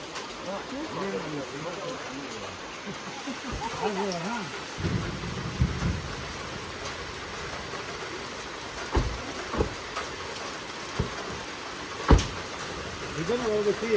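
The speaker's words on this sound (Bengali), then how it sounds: "এমন টাইমে বৃষ্টি আসলো" Steady rain falls with low rumbles of thunder, and sharper cracks and thuds rise now and then over the downpour. Voices talk faintly beneath it.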